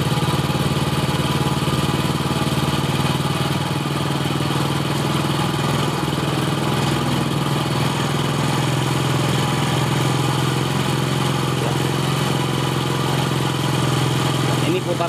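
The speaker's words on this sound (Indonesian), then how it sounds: "Terus cari suara putaran mesin yang paling tinggi." A Honda Astrea Grand motorcycle engine idles steadily during carburetor tuning, a continuous close-up putter with a low throbbing hum, while someone talks over it.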